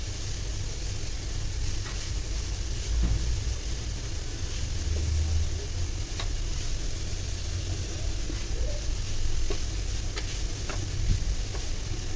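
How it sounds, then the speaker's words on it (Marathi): Grated carrot sautéing in about a tablespoon of ghee in a pan over medium-high heat, a soft steady sizzle with occasional light ticks and spatula taps, heard without speech. "मीडियम टू हाय फ्लेमवरतीच आपल्याला किस परतून घ्यायचं आहे"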